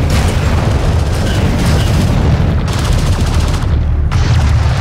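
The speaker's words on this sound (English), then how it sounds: "One of our turrets is taking fire." Hostile gunfire pounds a turret in Homeworld: Deserts of Kharak, with a loud, dense, continuous barrage of booming shots and impacts filling the whole stretch.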